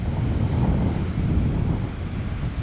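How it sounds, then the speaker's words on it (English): Surf breaking on a cold, windy Gulf Coast beach at Pensacola, a steady, loud roar of waves heavily buffeted by wind noise on the microphone, with no break throughout. "You never get waves like this here unless there's a storm brewing."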